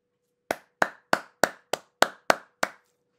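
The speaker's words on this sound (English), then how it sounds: "I'm just going to give a little pause for a clap" Eight crisp hand claps ring out close by at a steady, even pace, each a sharp isolated smack with a brief decay, then silence.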